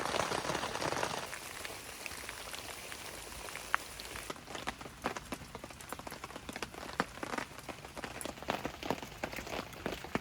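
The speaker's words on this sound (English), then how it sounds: "Rain's been relentless today." Steady rain patters on a surface nearby at a campsite on Loch Awe, Scotland, a soft hiss at first and then many distinct drips tapping irregularly, fairly quiet.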